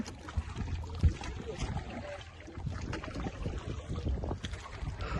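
A boat moving through floodwater after days of rain in Cox's Bazar, with low rumbling churn and water noise blended with wind buffeting the microphone, and voices talking nearby.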